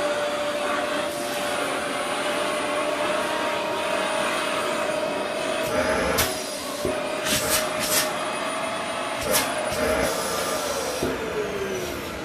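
A Vax Power Compact vacuum cleaner, not running at its best, gives a steady, droning motor whine throughout with a constant high tone, punctuated by a few sharp clicks and bumps near the end.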